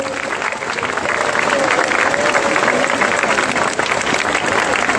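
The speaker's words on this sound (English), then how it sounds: "I think we should not stop clapping." A crowd of schoolchildren claps steadily and loudly throughout, sustained applause with a faint murmur of voices underneath.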